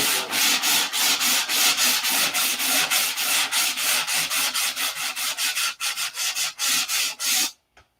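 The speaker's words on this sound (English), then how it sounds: "More sandpaper." Sandpaper is worked back and forth by hand in quick, even strokes, each a loud rasping swipe in a steady rhythm that runs nearly the whole time before stopping abruptly.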